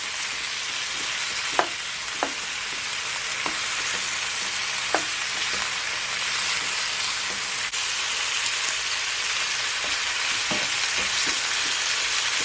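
Seasoned chicken searing in a pot for Jamaican brown stew chicken, a steady loud sizzle running throughout with a few sharp pops and crackles breaking through now and then.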